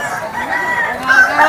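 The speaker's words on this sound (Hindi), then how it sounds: "और देखिए ना मुर्गा कितना बड़ा बड़ा लेकर आए हैं, और अलग अलग ब्रीड के मुर्गा लेकर आए हैं।" Roosters of different large breeds crowing close by at an outdoor village gathering, overlapping loud calls through the short clip.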